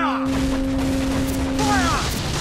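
A broadside of ship cannons booms in the Assassin's Creed naval game: loud, dense volleys of gunfire over steady sea and wind noise, with a shouted voice briefly audible.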